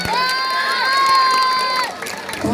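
A crowd at a beauty pageant's national costume segment cheers and shouts, with high sustained voices and whoops ringing out together before fading, under a lively hall ambience.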